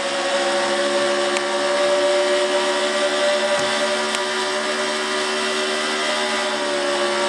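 A NASCAR race car in the Sunoco Ultra 300 holds a steady, loud high-RPM engine note near 9,000 RPM, a sustained droning whine with strong harmonics that stays constant and unbroken throughout.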